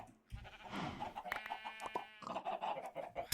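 Chickens in the video game Minecraft cluck and squawk in a dense, overlapping burst, close and fairly loud, with no talking over them.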